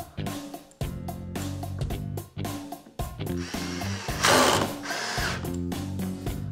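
Power drill driving screws into a wooden sawhorse: repeated whirring runs of the motor, each starting and stopping abruptly, close and loud, with a grinding bite as screws seat.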